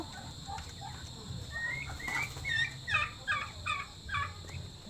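Pet ducks or turkeys in a pen give a run of short nasal calls and gobbling chatter, close and growing busier toward the end, over low rumbling background.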